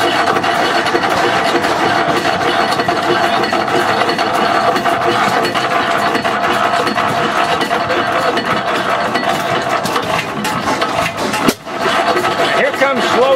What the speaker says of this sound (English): This is a great running engine.